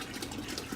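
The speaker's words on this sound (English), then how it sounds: "I have a gallon of refrigerated water that I got from the store, and I will pour that" A gallon of store-bought refrigerated water pours into a brewing pot of cream ale wort, a brief steady splashing gush heard close up.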